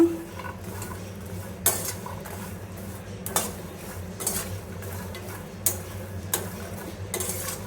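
Makhana being fried and stirred with salt, chili powder and spices in a pan, a spoon scraping and clinking against the pan at irregular intervals over a low steady hum.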